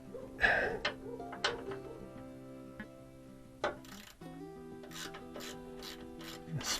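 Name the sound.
ratchet spinning off a 13 mm bolt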